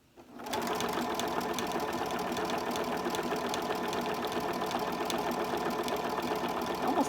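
A sewing machine runs a triple stretch stitch on a fabric bookmark, starting after a brief quiet moment and then humming and clattering steadily at close range for several seconds, with no talking.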